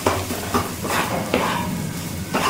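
Lote fish cooked down with green chillies is stirred in a pan over a medium gas flame, soft sizzling under repeated scraping strokes of a spatula in an uneven rhythm, close by with no talking.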